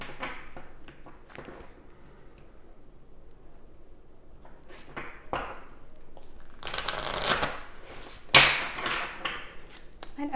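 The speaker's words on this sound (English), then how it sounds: "So let's go ahead and pull your oracle card for overall guidance and healing." Oracle cards shuffled by hand close up, soft riffling and sliding that builds into louder bursts near the end, with faint background noise and no speech.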